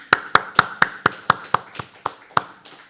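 Sharp percussive taps inside a church, a slow regular series of about ten single claps spaced roughly a quarter second apart, fairly close and evenly loud with no voices.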